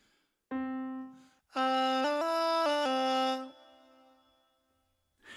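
A sung melody with stepped, unnaturally locked pitches gives a robotic, auto-tuned quality from a Korg Pa5X keyboard's auto pitch mic effect; two short phrases, clear and close, without accompaniment.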